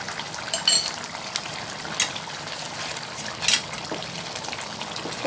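Kaleji and gurde gravy simmering in an open pot as its extra water cooks off, a soft steady bubbling and sizzle with a few sharper pops and splutters, close and fairly quiet, with no talking.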